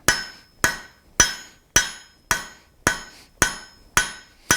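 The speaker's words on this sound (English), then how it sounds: "I'm going to start this hammering by laying it over the edge, and I'll make a shoulder" Blacksmith's hammer striking hot steel laid over the edge of an anvil to form a shoulder, eight loud, evenly spaced metallic blows with ringing decays, no talking.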